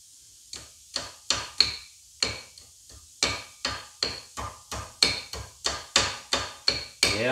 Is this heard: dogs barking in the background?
no